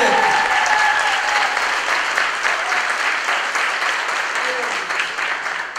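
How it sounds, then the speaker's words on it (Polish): A concert audience applauds the musicians with steady, full clapping that holds throughout, gradually easing slightly toward the end. "Największe brawo"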